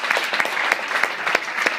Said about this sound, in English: If we can give a round of applause for Jay, Ryan, and Greg.